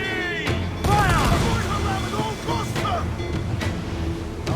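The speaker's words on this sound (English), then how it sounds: "Cannon ready! Fire!" Pirate ship cannons boom in Assassin's Creed IV, several sharp blasts spread across the stretch over wind and ocean surf, with voices calling out among them.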